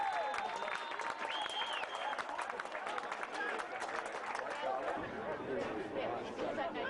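A home crowd at a Queensland State League football match, Olympic FC against QAS, cheers and applauds a long-range goal, with sustained broad roaring and clapping and scattered shouts throughout.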